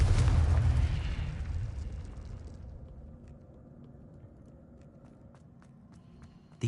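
A Confringo blasting spell in Hogwarts Legacy erupts as a loud, deep boom that rumbles and slowly fades over several seconds, followed by faint scattered taps and a sudden pop at the end.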